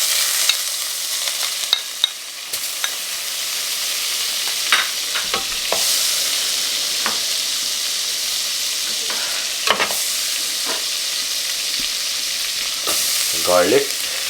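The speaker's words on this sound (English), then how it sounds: "We've heated our pan, we've put the oil, now we're going to put some butter." Butter sizzling and frying in a heated, oiled pan, a steady bright crackle broken by occasional stirring scrapes and clinks, close and alone without talk.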